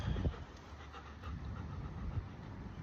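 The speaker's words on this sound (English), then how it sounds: "we don't gotta bark at everybody that we see" A dog pants steadily outdoors in a park, with a brief louder burst near the start; no clear barks stand out, and faint background noise runs throughout.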